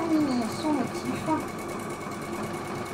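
A Husqvarna Viking Epic 2 embroidery machine runs steadily as it finishes stitching a pattern, a fast continuous mechanical whir at close range, with a voice talking over the first moments.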